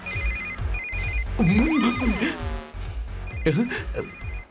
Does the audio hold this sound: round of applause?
no